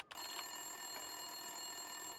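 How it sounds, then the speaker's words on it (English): An office desk telephone rings in the video game Max Payne 2, a steady electronic ring sustained alone against quiet background for a couple of seconds. "Winterson's phone was ringing."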